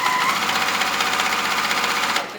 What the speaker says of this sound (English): Now you're supposed to do the side seams on the bag.